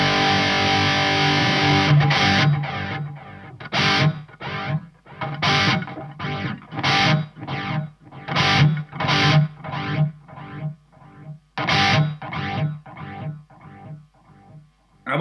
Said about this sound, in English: let's dial some kind of a lead delay sound